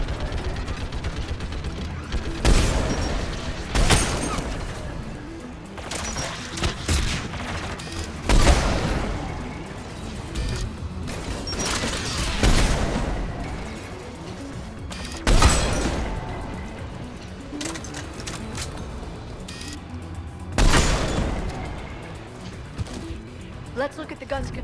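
Turret gunfire in the video game Mass Effect 3, a sustained barrage with repeated heavy bursts and booms every few seconds over dense battle noise, with speech mixed throughout.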